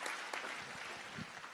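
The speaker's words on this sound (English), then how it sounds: "Can you please give a round of applause to our teams" Applause from an audience at a town hall in Delaware, a dense, steady wash of clapping that holds at an even level throughout.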